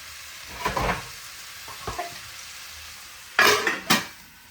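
Chicken sausage curry fries in a pan, with a low steady sizzle and several close scraping stirs of a utensil against the pan, some single and some in quick pairs.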